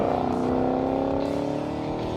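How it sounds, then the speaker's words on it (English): A supercharged V8 Shelby GT350R's Borla catback exhaust rumbles loudly and steadily with a deep, throaty drone, close by, holding a constant note for a couple of seconds. "they get to listen to the beautiful sounds coming from that Borla catback exhaust system"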